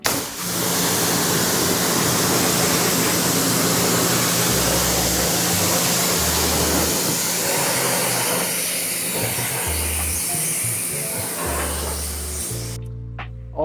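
A pressure washer sprays down a 2016 Audi S8, producing a loud, continuous close-up hiss of water jet over intermittent low pump thumps, ending abruptly.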